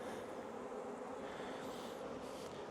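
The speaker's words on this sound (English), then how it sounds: "it's just so nice to deal with nice, calm, friendly bees" Calm, friendly honey bees, F1 Buckfasts turning toward Carniolan, buzz steadily as an open hive is inspected frame by frame; a faint, continuous drone with no talk.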